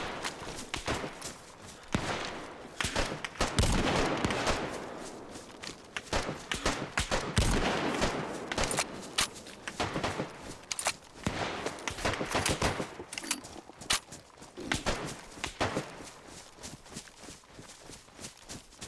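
Rapid gunfire in DayZ on Deer Isle, dense irregular volleys of sharp shots and bursts at varying distances, continuous over the whole stretch without talk.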